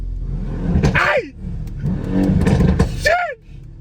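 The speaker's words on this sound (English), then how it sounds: "He gave us some revs." Mercedes C63 engine revving on a street, a loud roar that rises and falls several times over a few seconds, with a brief rasping flare near the end.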